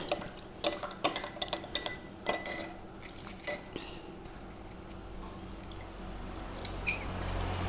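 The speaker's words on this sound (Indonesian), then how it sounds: "kita masukkan ke dalam larutan jodium. Nah, kita aduk, ya." Lemon juice stirred into iodine solution in a glass container, a run of light clinks and taps of a stirrer against glass, irregular and close, fading to quiet near the end.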